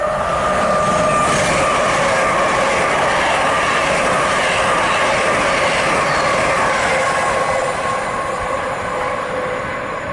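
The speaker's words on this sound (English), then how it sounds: "that's 81203 with a passing LNER service from Leeds to London King's Cross" A loud LNER passenger train from Leeds to London King's Cross rushes past at Grantham on the East Coast Main Line, a steady roar with rail clatter and a whining tone held for the whole stretch.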